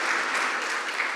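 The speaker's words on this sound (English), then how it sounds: "round of applause" Audience applause at an in-conversation event, a steady wash of clapping from a crowd, moderately loud and alone.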